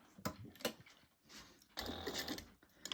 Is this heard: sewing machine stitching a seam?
yes